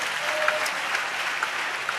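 A church congregation claps during a sermon, soft steady applause heard from a distance with a few distinct claps popping out of the wash.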